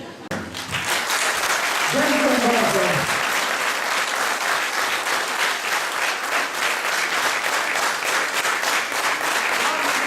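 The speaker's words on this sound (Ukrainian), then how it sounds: "Серце дуже радує, що коли нам так плескають" An audience gives sustained applause at a Rusyn folk studio performance, dense clapping throughout with a brief spoken thanks from someone near the start.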